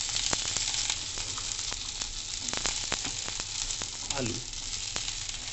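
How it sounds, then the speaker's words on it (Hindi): Okra sizzles and crackles in a hot pan with onions. A soft, continuous frying hiss is broken by sharp clicks of stirring, and someone briefly speaks over it. "भिंडी डाल के इसको थोड़ा सा ऐसे घुमाएंगे ज़रूर। भिंडी आपने डाल दी सारी।"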